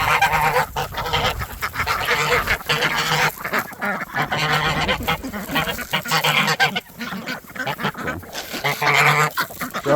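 A backyard flock of geese honks loudly and continuously alongside ducks and chickens at feeding time, with dense overlapping calls close by and no talking.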